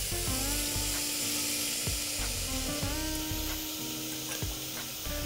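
Spices sizzle steadily in a frying pan for vegetable masala khichdi, with a loud continuous hiss broken by repeated scraping stirs of a spoon against the pan.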